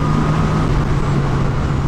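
A 2018 Honda CB 1000R motorcycle engine under way while riding, a loud continuous low drone with steady road and wind roar throughout, no speech.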